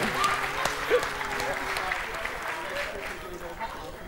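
A studio audience at a Turkish television dance show applauds after a song, a steady clapping wash carrying some background voices and faint musical tones.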